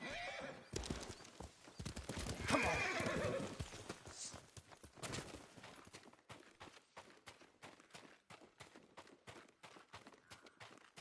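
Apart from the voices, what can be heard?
horse hooves and whinny in a samurai video game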